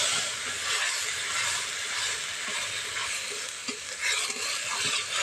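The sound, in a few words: onion-ginger-garlic paste frying and being stirred in oil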